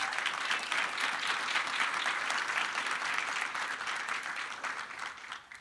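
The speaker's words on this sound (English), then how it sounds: "Give them the round of applause who made it happen." Applause from a conference audience, dense and steady clapping for the organizers that holds evenly for several seconds before tapering slightly at the close.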